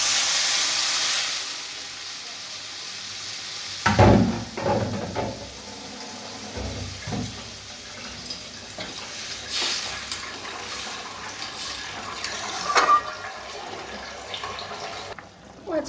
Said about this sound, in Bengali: পেঁপে সেদ্ধ আলু সেদ্ধ জলটা দিয়ে দিচ্ছি।